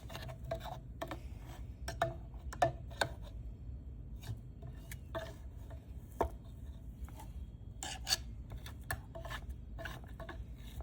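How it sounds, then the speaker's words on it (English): A spoon scrapes down the sides of a food processor bowl holding basil pesto, giving repeated soft scratchy strokes close by over a steady low background hum, with no talking. "you're just gonna scrape down on these corners so that it's actually where the blades can cut"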